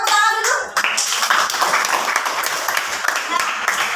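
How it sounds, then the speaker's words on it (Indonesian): Children clap together during a sixth-grade classroom lesson, a dense, steady patter of many small hands filling the whole moment at close range, with a voice briefly heard at the start. "Coba tepuk tangan dulu."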